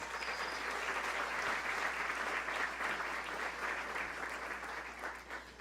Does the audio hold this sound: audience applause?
yes